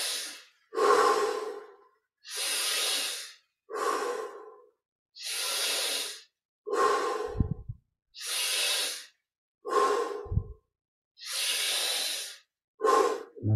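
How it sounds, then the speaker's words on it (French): Slow, deep breaths during a guided breathing exercise, about eight long breathy inhales and exhales at an even pace with brief pauses between them, close and fairly loud with no talking. "Prenons encore un peu plus d'air à chaque inspire."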